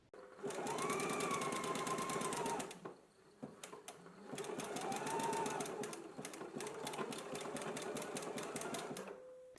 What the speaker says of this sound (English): Let's go ahead and stitch our shoulders and side seams now, and I will be using a zigzag stitch.